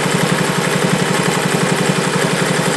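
A Singer 401A sewing machine stitches cotton fabric with a straight stitch foot, giving a close, steady, fast rhythmic whirring chatter of needle strokes. The motor hum runs continuously throughout.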